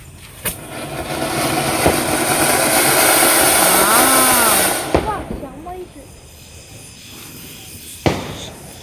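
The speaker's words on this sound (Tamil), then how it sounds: "இங்கே வெடிக்கும்ட்டு மேலே போய் டொப்புன்னு வெடிக்கும்." Diwali firework rockets whistling upward and bursting with sharp bangs over a steady roaring rumble, with a final loud pop near the end.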